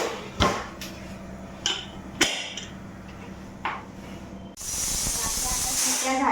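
A pressure cooker holding carrot and beetroot pieces with water hisses as it releases steam, a loud steady rush near the end, preceded by several sharp metallic knocks.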